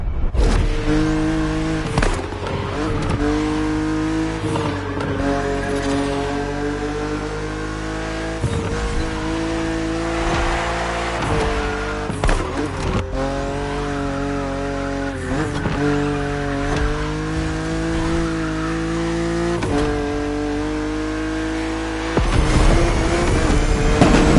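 A car in The Crew driving on open roads: a loud, sustained engine drone with shifting pitch as it accelerates and changes gears, with occasional tire squeal, steady throughout with no talking.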